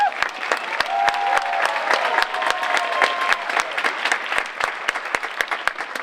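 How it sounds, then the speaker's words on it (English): Audience clapping and cheering for a fourth grade school chorus at an MLK Jr. event, with sharp individual claps over a lively crowd wash, a few whoops, and voices talking through it. "And we cheer for them."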